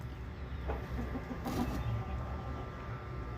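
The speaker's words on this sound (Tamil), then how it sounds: "இவர் சண்டைக்கோழி." A fighting rooster clucks in a short series of low, soft notes close by, over steady background hum and some outdoor noise, with no talking.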